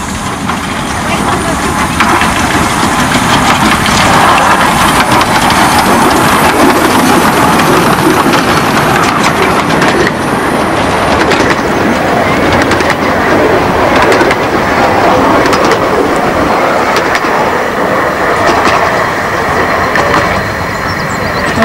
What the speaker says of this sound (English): That's quite a big engine, that one.